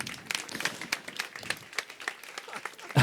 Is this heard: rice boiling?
no